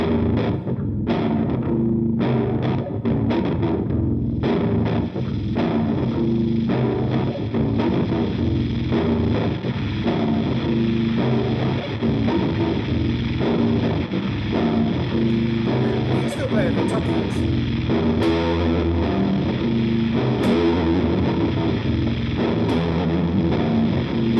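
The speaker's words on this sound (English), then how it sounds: "back to the bit crusher" A harsh, lo-fi bit-crusher effect on a Line 6 Helix distorts a continuous loud musical loop from a Novation Circuit with a steady beat, buzzy and grainy throughout.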